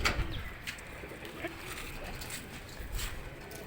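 Soft pigeon coos come and go on a rooftop pigeon loft in Rawalpindi against a steady outdoor hum, with a few faint calls scattered through.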